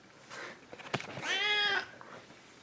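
A single drawn-out cat meow, close and moderately loud, follows a few faint knocks in an otherwise quiet room.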